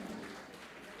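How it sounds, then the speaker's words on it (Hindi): Applause at an award ceremony during a school mushaira event in Gopalganj, a brief dense patter of clapping from a crowd, fairly faint and steady. "ज़ोरदार तालियाँ।"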